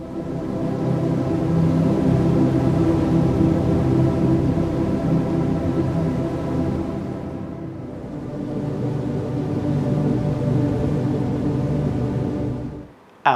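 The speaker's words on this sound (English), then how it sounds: "Today I'm going to show you how to build a pad sound like" Organic ocean pad built on an MPC from field recordings, a soft rolling wash of low, surf-like rumble that swells, dips around the middle, rises again and then cuts off abruptly.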